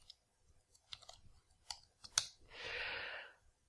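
A few scattered computer keyboard keystrokes and clicks while coding a JavaScript chess engine, sparse and close, followed by a soft breathy rush of noise.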